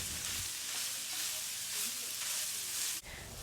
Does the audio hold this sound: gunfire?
no